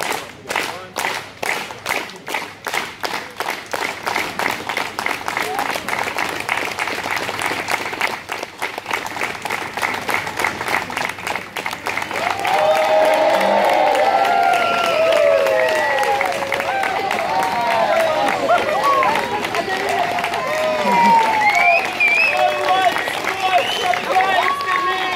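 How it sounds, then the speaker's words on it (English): An audience at a unicycle street performance claps in a steady rhythm, then breaks into looser applause and cheering. A performer's voice carries over the crowd throughout. "Everyone together, nice big hand clap."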